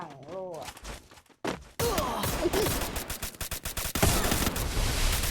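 Rapid bursts of backup-gun fire in Free Fire ring out after a brief opening voice, with dense repeated shots continuing loud and close over a busy game soundscape.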